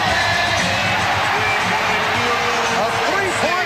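A packed basketball arena crowd roars continuously in the closing seconds of a 1992 Bulls–Knicks playoff game 7 in Chicago, loud and sustained with whoops, while a commentator talks over it.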